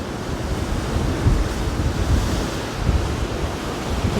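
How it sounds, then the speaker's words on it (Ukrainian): Heavy storm surf rolls and crashes continuously against the shore and concrete steps, loud and close, mixed with strong wind buffeting the microphone; no voices. "такі хвилі серйозні"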